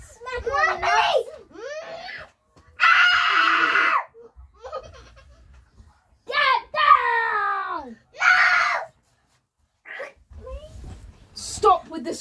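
Children scream, shriek and laugh in bursts indoors at night, loud and close, with gaps of quiet between the outbursts and child speech mixed in.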